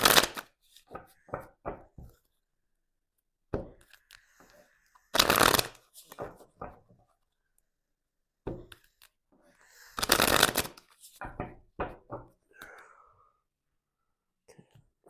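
Tarot cards shuffled in several bursts of riffling, with quiet gaps between them and no talking, close and fairly soft.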